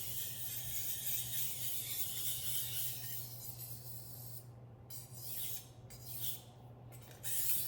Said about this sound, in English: you can kind of hone it with a little circular motion along the stone